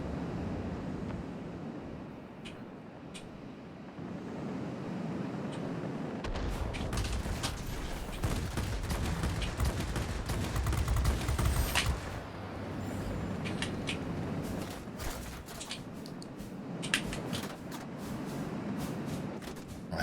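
Aircraft machine guns firing in World of Warplanes during a dogfight, dense rattling bursts over a constant engine and wind roar, heaviest in the middle stretch.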